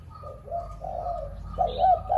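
A dove coos softly in short, low repeated phrases, close by and alone, with a faint higher chirp near the end.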